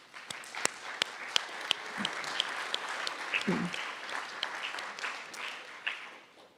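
Scattered applause from a modest audience at an award ceremony, with a few sharp individual claps standing out over a soft, steady patter of hands, fairly close.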